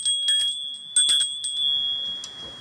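A bell at a trailer's front door rings in a few quick bursts, a bright sustained tone with jangly ringing strikes, fairly close, fading into quiet background.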